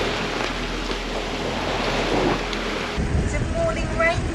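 Sailboat running dead downwind through flat water amid small rain squalls, a 1978 Kelly Peterson 44 sailing wing-on-wing: steady broadband rush of wind and water close to the microphone, with a brief voice near the end.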